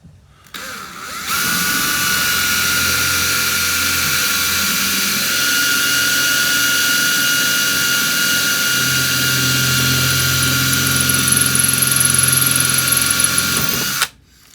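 A power drill whirs steadily and loudly for about thirteen seconds, close by, drilling into wooden cladding timber, with a constant high-pitched motor whine and no talking.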